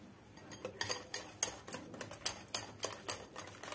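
A spoon clinks and scrapes against a bowl while curd is mixed into eggless banana cake batter, giving a steady run of close, sharp taps and strokes with no talking.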